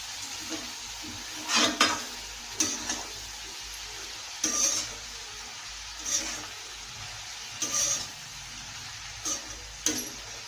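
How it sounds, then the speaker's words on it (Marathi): Chopped spring onion greens are stirred in a pan for Maharashtrian zunka, giving a soft background sizzle punctuated by several separate scraping strokes of a spoon at an irregular pace. "व्यवस्थित मिक्स करून घ्या"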